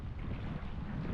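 Steady wind buffeting the microphone at Poetto Beach in Cagliari at golden hour, a continuous low rumble with faint surf and sea wash beneath, no voices.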